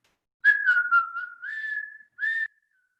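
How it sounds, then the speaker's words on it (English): A person whistles a short tune close by, a wavering sustained note followed by a brief pause and a final short phrase, with no other sounds. "So try and shift it now and do a little whistle."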